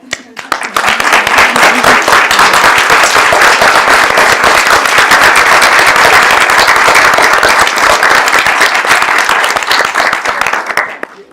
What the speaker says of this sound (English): I want you to stand up, and so we can applaud you.